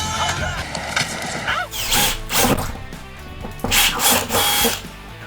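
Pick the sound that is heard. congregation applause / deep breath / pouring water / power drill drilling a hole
power drill drilling a hole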